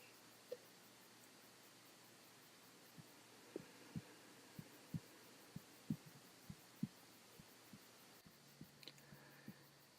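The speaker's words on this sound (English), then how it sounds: "Just listen to my breathing, to my heartbeat." Slow, soft thumping heartbeat, each beat a muffled low pulse at a steady rhythm over faint background hum, close and quiet.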